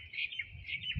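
Birds chirp outdoors at Sultan Humanitarian City in Riyadh, a couple of faint, quick high tweets heard alone against quiet background rumble.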